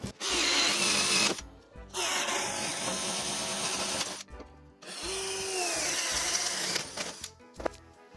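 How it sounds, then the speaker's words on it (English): A power drill bores corner holes in a Cessna 172 instrument panel support, running in three loud sustained bursts separated by brief pauses, close and alone. "So now we have all 2, 4, 6, 7 corner holes drilled"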